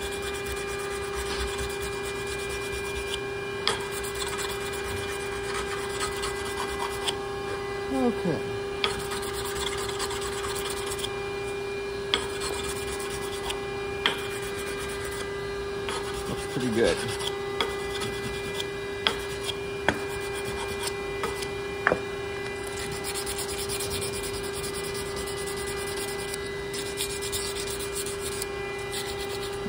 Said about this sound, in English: so I'm going to go to the sanding block